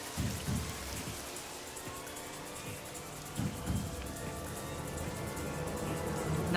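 Steady rain falls on a rain-soaked garden outside a mansion in AI: The Somnium Files, a dense even hiss with faint low rumbles beneath, growing slightly louder toward the end.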